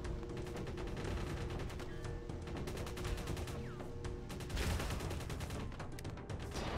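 A blunderbuss firing in the video game Cursed Halo, a dense run of rapid crackling shots with no real pause between them.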